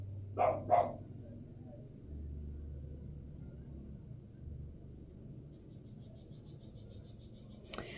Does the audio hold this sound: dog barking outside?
yes